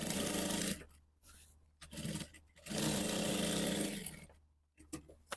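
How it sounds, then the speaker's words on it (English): A sewing machine stitches the armhole of a blouse, running in loud, close bursts of rapid whirring separated by brief pauses. "Next, I'll sew this armhole side."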